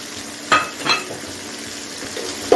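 Tomatoes and turkey berries sautéing in a pan, with a steady low sizzle and a few sharp stirring scrapes of a utensil against the metal, close and moderately loud.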